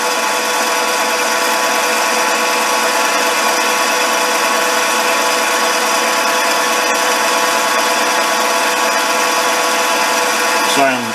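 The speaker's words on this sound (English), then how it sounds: "Silent peck drilling, if you want to call it that, which is going in and out, clear the chips." A mini lathe peck drills a small-diameter hole at high RPM, a steady, bright machine whine throughout, stopping briefly at the very end.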